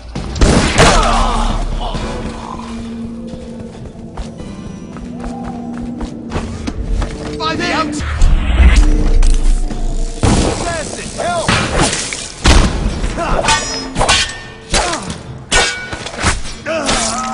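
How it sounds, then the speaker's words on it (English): Dishonored game combat: a spring razor trap goes off on two guards amid loud slams, metallic thuds and crashes scattered across the stretch, mixed with game effects and a voice talking over it. "he's planting a spring razor there. When time resumes, it will kill them both"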